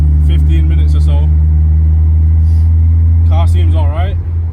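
Cabin view of a drift-spec BMW E36 on the road, its engine droning loud and constant as someone speaks over the steady rumble.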